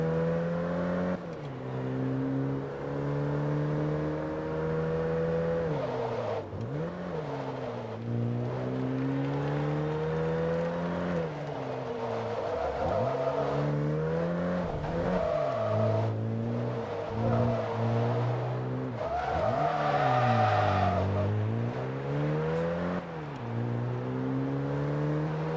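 Car engine in Forza Motorsport revving hard and continuously, pitch climbing and dropping through gear changes, loud and close throughout with no talk; tire squeal is not clearly distinct.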